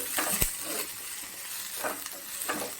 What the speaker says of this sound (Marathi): तेलात चांगला फ्राय करून घ्यायचं. कांदा लालसर होईपर्यंत थोडासा फ्राय करून घ्यायचं.